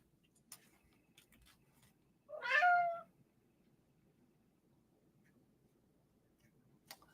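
A cat gives a single clear meow, close and fairly loud, against a quiet background with faint ticks and light noise.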